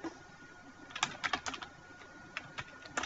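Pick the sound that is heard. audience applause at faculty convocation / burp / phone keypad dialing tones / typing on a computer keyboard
typing on a computer keyboard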